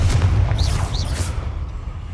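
A Confringo blast spell explodes in the Hogwarts Legacy video game, a loud booming burst with rumbling low end and bright whooshing trails that fade over about two seconds.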